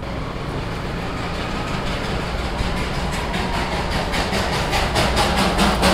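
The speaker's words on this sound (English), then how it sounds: "I think it is a steam engine." A steam engine train passes close by, producing a loud, continuous rumble with rhythmic clattering of the wheels that builds slightly toward the end.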